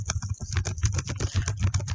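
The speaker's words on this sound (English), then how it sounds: "Now I can type here" Quick, close keystrokes on a computer keyboard form a short, uneven burst of clicking taps with no talking.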